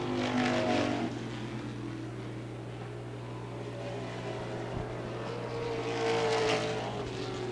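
Street stock race cars run wheel to wheel in a CRA championship race at Lucas Oil Raceway in Indianapolis, their engines a steady, fairly distant roar that swells at the start and end.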